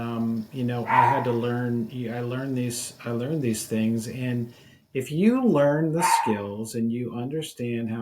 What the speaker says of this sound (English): I'm sorry if you hear my dog barking over there.